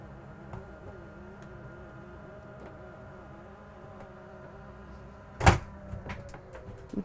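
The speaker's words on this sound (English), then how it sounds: "that little noise you heard at the end, those are the locks that are actually built in" Built-in locks on the slide-out table of a 2023 Newmar Ventana 4328 motorhome engage with a short, sharp mechanical clunk and a few trailing clicks near the end, over a steady low interior hum.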